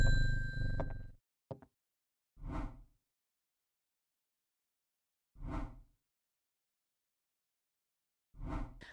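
A few bright, short dings ring out one after another, separated by quiet gaps, from a bell in the potion-shop game Strange Horticulture, with no one talking over them.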